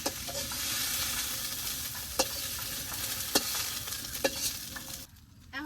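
Mint leaves fry in hot oil in a pan at a village kitchen, a steady crackling sizzle punctuated by several sharp spatula clinks and stirring scrapes, ending suddenly as the sound drops away near the end.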